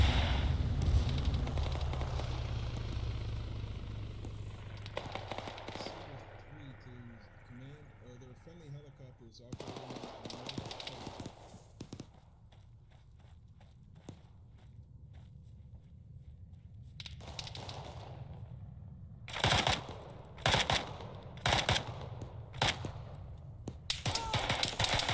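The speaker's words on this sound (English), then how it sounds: "They are strafing my position" Machine gun strafing fire in a military video game, heavy at the opening, then scattered bursts, a quieter stretch and sharp loud volleys near the end, with someone talking through much of it.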